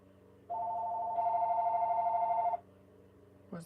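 A telephone rings for an incoming call as a single sustained electronic trill lasting about two seconds and brightening partway through, fairly faint in a quiet room.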